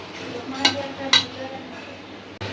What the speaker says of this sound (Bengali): সুন্দর করে এটা কষা কষা করি